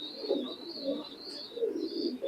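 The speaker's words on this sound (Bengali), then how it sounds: "আর খুব অ্যাক্টিভ একটা কবুতর" Soft, repeated cooing from an active imported-bloodline high-flying pigeon, close by and alone, in a steady run of low throaty phrases.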